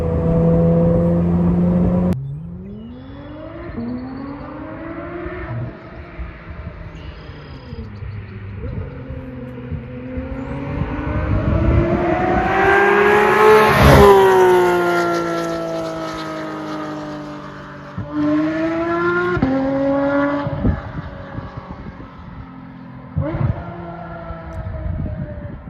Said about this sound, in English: It actually amplified the exhaust sound, which you can hear in the video when the valves are closed.